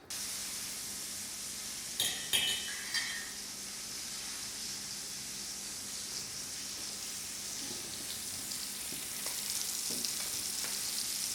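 Beef rump and wagyu beef fry in a pan, giving a steady, close hiss of sizzling fat that runs throughout, with a few brief clatters and pops near the start.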